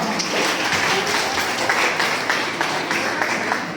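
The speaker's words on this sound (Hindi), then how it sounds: "सब लोग तालियों से स्वागत करें एक बार।" A school parent-teacher meeting audience in Dholpur claps in steady, dense applause throughout, close and loud, with a faint voice under it.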